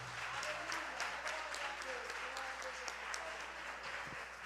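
A church congregation applauds in praise, a steady dense clapping that stays loud and even throughout, with voices mixed faintly into it.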